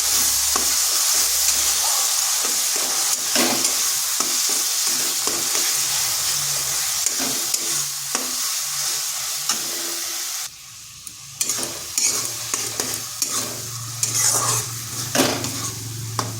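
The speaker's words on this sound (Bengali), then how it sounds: "এরপর আঁচটা স্লো টু মিডিয়াম আঁচ করে বেশ কিছুক্ষণ এভাবে নেড়ে নিতে হবে।" Brinjal stirred in oil inside a pressure cooker over low-medium heat: a continuous close sizzle with frequent scraping and clinking of a spoon against the metal, briefly dropping quieter before the stirring and frying resume.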